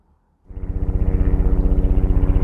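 After a moment of quiet, a helicopter starts up and thuds with rapid, regular rotor beats. It stays loud and close at an even rhythm, with no talking.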